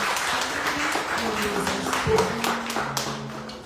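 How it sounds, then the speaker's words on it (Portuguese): A church congregation applauding in worship, a continuous wash of clapping with sustained musical tones underneath. "Vamos saudar o Senhor com uma forte salva de palmas."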